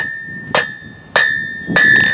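Three loud blacksmith's hammer blows on metal on an anvil while drawing a taper, evenly spaced, each ringing out with a sustained metallic tone between strikes.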